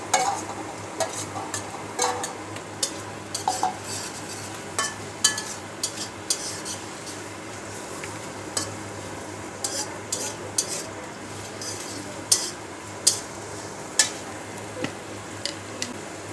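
Sliced onion and green chilies frying in a pan for pumpkin do pyaza, a continuous sizzle underneath with frequent sharp ticks and scrapes of a spatula stirring against the metal, no one speaking.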